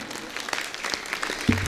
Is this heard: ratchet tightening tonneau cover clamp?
no